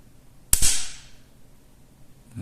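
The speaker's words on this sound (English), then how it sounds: "I'm just going to show you the trigger pull" Dry-fire trigger pull on an unloaded budget sniper rifle, a single sharp metallic snap close to the mic with a brief ringing tail, otherwise quiet.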